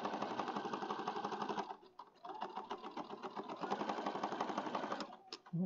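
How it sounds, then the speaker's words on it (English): Sewing machine stitching a junk journal, a fast steady run of close mechanical stitching with a brief pause near the middle, then more stitching and a couple of sharp clicks at the end. "Sometimes I get in a hurry, so I just sew too fast and it doesn't catch correctly."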